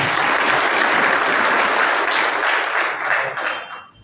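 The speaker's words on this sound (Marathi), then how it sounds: "त्या सर्वांचे आपण टाळ्या वाजवून आभार मानतो" Audience at a labour or pension meeting applauds to thank union leaders, a dense burst of many hands clapping close and loud for about four seconds before tapering off.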